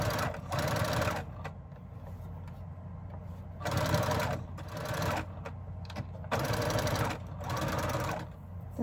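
Sewing machine running at a stitch length of about 3.5 with black thread, loud close bursts of rapid mechanical stitching broken by short pauses between runs, no talking.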